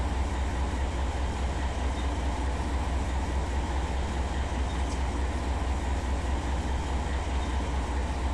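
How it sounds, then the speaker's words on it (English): Loaded grain freight train rolling downgrade in the Run 8 Train Simulator game, a constant low rumble with steady wheel and track noise, even and unbroken throughout with no talk. "some kind of grain train"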